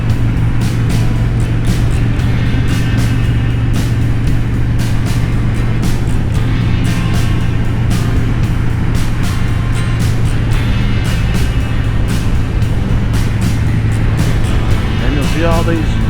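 Steady car engine and road roar while driving through a short road tunnel on a rocky route, a loud sustained drone with a low hum, with a voice talking over it.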